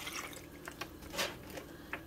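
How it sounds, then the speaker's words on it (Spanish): A glass of water poured into a cooking pot of chicken jocón makes faint splashing and dripping sounds, close by, over a steady background hum with no talking. "Y la voy a agregar un vaso de agua"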